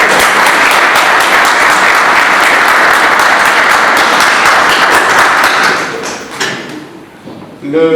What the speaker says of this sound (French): que je demande d'applaudir